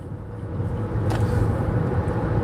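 A car accelerating as it merges into a traffic lane, a steady low engine and road rumble from inside the cabin that swells slightly over the short stretch.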